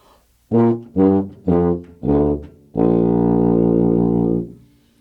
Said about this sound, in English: This is the tuba.